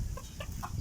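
Backyard gamecocks give a few short clucks in under a second, faint and close over a low background rumble.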